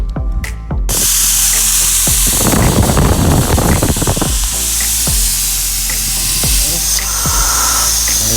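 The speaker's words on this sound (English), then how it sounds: "we got to pull out the valve stem. So we'll go ahead and let the air out of that" Air rushes out of an open tire valve stem on a wheel with a beadlock in a loud, steady hiss that starts abruptly and continues unbroken, with faint clicks and shop noise beneath.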